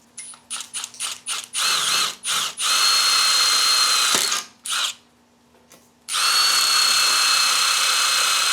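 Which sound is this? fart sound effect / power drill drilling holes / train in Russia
power drill drilling holes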